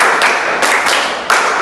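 A classroom group doing a rhythmic clapping pattern, with several loud, sharp claps from many hands at uneven intervals over constant room noise.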